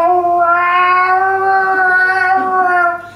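A voice imitates a hungry, scrawny little cat howling, a single long wavering meow-like wail held loud and close for about three seconds before it cuts off.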